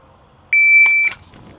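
Shot timer at a shooting competition gives a single loud, steady electronic beep of about half a second, followed by a few faint rustles.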